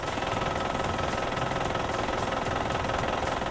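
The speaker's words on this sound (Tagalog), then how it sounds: "Paandarin ang makina ng sasakyan ng booster battery at maghintay ng ilang segundo bago paandarin ang iyong sasakyan." A car engine running after a jump start from a booster battery: a steady, loud, rattling rumble that holds without a break for the whole stretch, with no voices.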